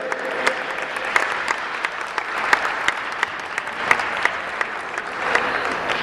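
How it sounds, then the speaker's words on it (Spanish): An audience at a Holocaust remembrance event applauds warmly, a steady, dense wash of clapping from many hands that continues evenly with no talk over it. "igual les pido un aplauso fuerte"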